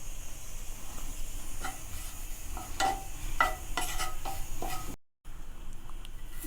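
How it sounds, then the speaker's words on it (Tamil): Fresh green curry leaves, a handful, dry-roasting in a pan at close range, giving a steady soft hiss with light stirring scrapes and sharper crackles, with no one talking. "ஒரு கைப்பிடி அளவுக்கு கருவேப்பிலை, பச்சை கருவேப்பிலை இதையும் நம்ம வறுத்து எடுத்துக்கலாம்."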